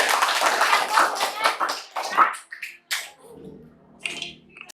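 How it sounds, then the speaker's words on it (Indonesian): Classroom applause for a student, a burst of hand clapping with scattered claps that thins out and stops partway through, followed by faint room sounds. "tepuk tangan untuk Anggun."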